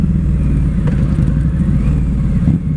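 A Harley-Davidson V-Rod Night Rod Special motorcycle on a test ride, its engine a loud, steady, close droning rumble with only slight variation throughout and no pauses.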